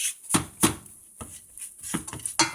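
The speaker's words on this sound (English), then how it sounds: "you're just going to stir this until it comes together as a ball" Churro dough being stirred in a pan, heard as a run of irregular thick scraping and knocking strokes of a utensil against the pan, close and fairly quiet, with short pauses between strokes.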